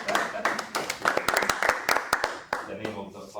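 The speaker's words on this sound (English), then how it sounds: "let's give a round of applause and encouragement" A small group claps for a few seconds, scattered and uneven hand claps close by, with some voices murmuring underneath.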